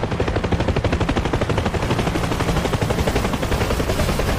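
Sustained rapid machine-gun fire in DCS World during a helicopter chase reenacting Rambo: First Blood II, a dense, unbroken rattle of shots at steady loudness throughout.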